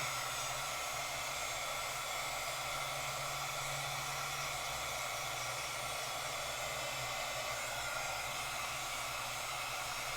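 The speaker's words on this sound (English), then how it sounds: "And this is a heat gun, so I would normally use a hair dryer because it's faster." A heat gun blows steadily while drying wet watercolor paint, a constant loud whooshing hum with a low motor drone that holds unchanged for about ten seconds.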